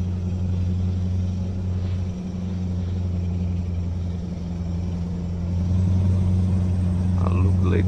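A Scania V8 truck engine in Euro Truck Simulator 2, with the ProMods 2.0 winter mod, drones at a steady low idle-like rumble, then grows a little heavier and louder toward the end.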